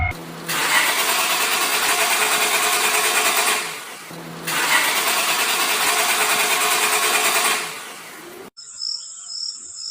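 A car engine in a horror audio drama cranks in two long, loud bursts of about four seconds each and fails to catch, then cuts to near silence with a faint high tone.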